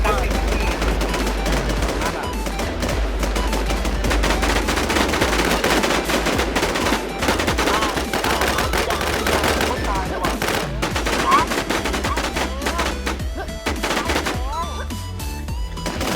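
Loud, sustained automatic gunfire in Infestation as shots pour into a bunker through its windows: rapid, near continuous bursts of rifle fire crowd the whole stretch, with someone talking excitedly over them.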